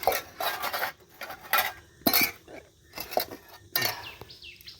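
Dishes and metal vessels being washed by hand, with several bursts of clattering and clinking utensils separated by brief pauses, close and fairly loud, with no talking.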